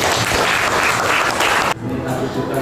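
A secondary-school class claps together in a room, a dense and loud burst that cuts off abruptly partway through, leaving a lower murmur behind.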